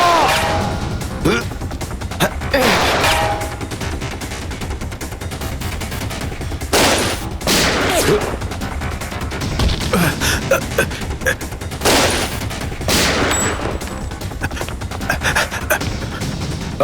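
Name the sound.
gunfire in a TV crime drama shootout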